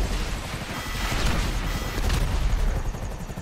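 Missile hits pound a flying Oppressor Mark II in GTA, a dense barrage of booming blasts and rumbling impacts layered under continuous helicopter rotor noise, loud and close throughout.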